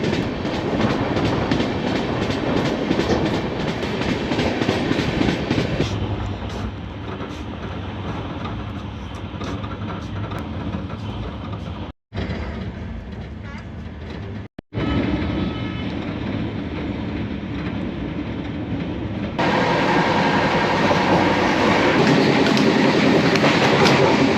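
A passenger train on the Danapur to Bengaluru route rolls along steadily, its loud continuous rumble and clickety-clack of wheels on rails heard from inside a carriage, with brief dropouts partway through.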